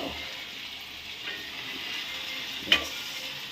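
Country chicken frying in hot oil with masala in a home kitchen, giving a soft continuous sizzle with a faint stir and one brief clink near the end.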